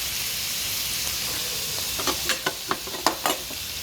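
Chicken and mushrooms frying in a pan, with a steady close sizzle and hiss as the pieces are stirred, and several sharp scraping clacks of the utensil toward the end.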